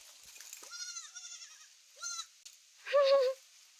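Several goats kept at home bleat in short wavering calls, a few quick cries early on, another around the middle, then a louder, longer bleat near the end, all close and clear with no talking.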